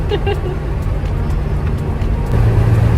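Ferrari Roma 3.9-litre twin-turbo V8 driving in wet mode on drizzly roads, a low engine and road rumble from the cabin that swells near the end, with faint voices talking.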